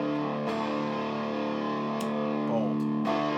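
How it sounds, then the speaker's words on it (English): An electric guitar plays through a Supro Drive overdrive pedal on its bold setting with gain maxed, giving thick, heavily distorted sustained chords with a few quick picked transitions, loud and steady with no talking. "Here's the bold setting on the unit now. Same settings, gain maxed, volume is about half,"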